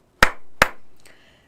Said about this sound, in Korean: 저 박수